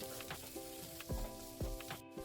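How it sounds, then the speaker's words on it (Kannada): Onions frying in oil with mustard seeds, curry leaves and dried red chillies, a close steady sizzle with a few crisp pops and two or three dull stirring thumps over a faint background hum. "ಎಣ್ಣೆ ಹಾಕೊಂಡು ಸಾಸಿವೆ, ಕರಿಬೇವು, ಒಣಮೆಣಸಿನ್ಕಾಯಿ, ಈರುಳ್ಳಿ ಹಾಕೊಂಡು ಫ್ರೈ ಮಾಡ್ಕೊತಾ ಇದ್ದೀನಿ."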